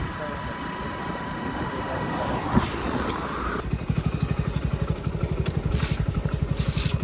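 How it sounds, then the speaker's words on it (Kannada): A motorcycle engine comes up as a steady, close rhythmic thumping after a stretch of someone talking, continuing under light background noise. "ಇದೇ ನಮ್ಮ ತಮ್ಮ ತಗೊಂಡಿರೋ ಗಾಡಿ"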